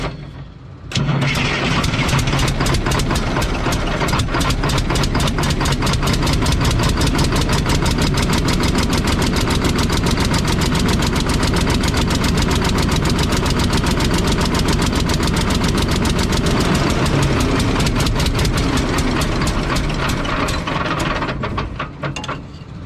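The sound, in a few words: Mack truck diesel engine running on two cylinders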